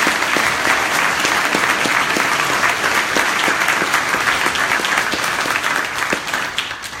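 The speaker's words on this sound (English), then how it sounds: "Give them a round of applause again." A crowd at an MLK Jr. celebration claps continuously and evenly, a dense, loud round of applause that holds steady throughout before easing slightly at the end.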